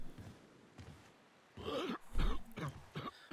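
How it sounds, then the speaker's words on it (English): A man coughs and clears his throat in the video game Resident Evil 4. The sounds are quiet, rough and raspy, coming in a short cluster of bursts over low, faint game ambience. "we've got a coughing man already"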